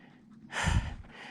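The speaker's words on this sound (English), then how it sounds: "Pardon the heavy breathing here." One heavy, rushing breath, an exhale or gasp, close to the mic after a quiet moment, then fading, from a hiker climbing at Cedar Mesa.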